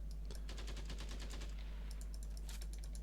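Video game weapon gunfire in an Unreal Engine 5 beginner prototype: quick bursts of rapid sharp shots, a pause, then more clipped repeated shots over a low steady hum.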